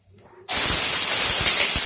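Green chillies and onion dropped into hot pungent mustard oil with five-spice seeds, bursting into a loud, steady close-up sizzle after a brief quiet start.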